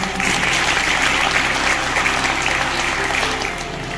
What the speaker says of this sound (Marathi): तिचं सर्वप्रथम टाळ्या वाजवून आपला